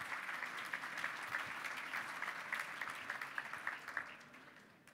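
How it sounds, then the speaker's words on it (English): Steady audience applause fills a hall at the MAPIC Awards 2012 ceremony, even and moderately distant with no talk over it. "Yes, I think you can applaud them."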